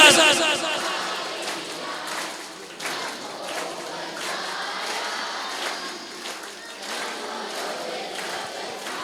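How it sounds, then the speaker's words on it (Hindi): Children at a Jain youth camp closing ceremony clapping and calling out together, a noisy crowd sound with a loud burst at the start and uneven bursts continuing throughout. "तालियों के साथ।"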